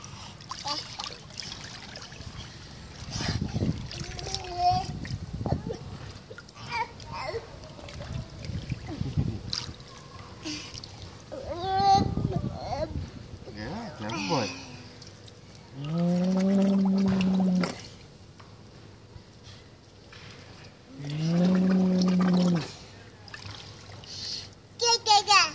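A 15-month-old toddler splashes and kicks in a swimming pool, giving irregular water sloshes and trickles, with an adult's encouraging voice and the child's vocal sounds heard over the water.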